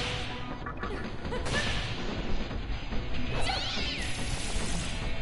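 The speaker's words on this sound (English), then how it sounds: "They're cats, not foxes." Cats in the video game Nocturne meow and yowl amid harsh crashing and swishing game sounds, a dense, loud, continuous layer with no clear talk.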